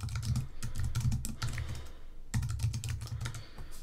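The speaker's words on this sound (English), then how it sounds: "you just click and you can type" A computer keyboard is typed on steadily while adding text in a PDF editor. Dense, rapid key clicks run close and continuous, broken by one brief pause midway.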